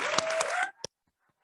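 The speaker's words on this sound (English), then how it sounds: "and let's give them a round of applause." A short burst of audience applause for nursing faculty at a nursing pinning ceremony, dense clapping that cuts off abruptly after under a second, leaving near silence with one last stray clap.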